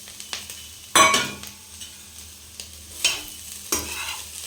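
Chicken and egg stir-fried together in a hot pan for fried rice, heard as a steady sizzle broken by several sharp scraping strokes of a spatula, close and fairly loud, with no talking.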